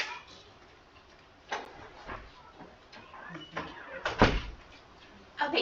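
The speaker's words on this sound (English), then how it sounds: "Let me shut this door." A classroom door is pushed shut, giving a few sharp clunks and knocks spread over several seconds, fairly close, against a quiet room.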